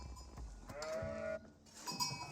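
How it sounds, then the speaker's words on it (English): A sheep bleats once in an Age of Empires 4 game, a short wavering cry over faint background game ambience with no talk. "Number of sheep over there."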